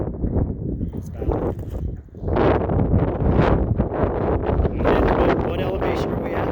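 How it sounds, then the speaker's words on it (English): Steady gusting wind rushes across the microphone outdoors at 10,000 feet beside the old Snowstorm gold-mining dredge, a continuous broadband roar that dips briefly and then surges back, with voices faintly present under it. "as you can see, it's a nice breezy day"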